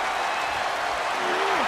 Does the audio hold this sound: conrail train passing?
no